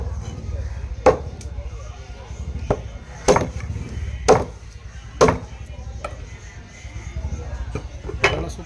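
A knife chops through koduva fish on a board in sharp, loud, irregular thwacks, with a person talking in the background.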